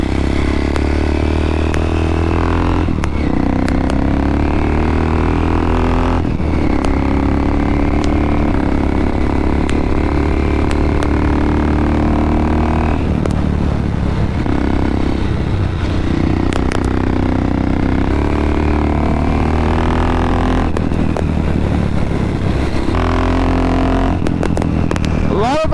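KTM motorcycle engine on a first ride, loud and close, with repeated drops and rises in revs as gears are changed, heavy rumbling exhaust over constant wind noise.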